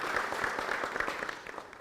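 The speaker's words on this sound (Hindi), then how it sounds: "एक बार जोरदार से तालियां अपने आप के लिए" Studio audience at a Hindi farm-affairs village discussion show breaks into dense applause, a steady wash of many hands clapping for the whole short stretch with no voices over it.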